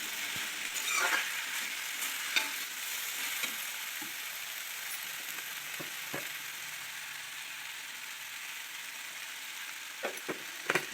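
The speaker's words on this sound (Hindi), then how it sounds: "वैसे हमारी सब्ज़ी छौंक गई है" Steady, crackling sizzle of vegetables being tempered in a pan, continuous throughout with a few brief clinks and stirring sounds.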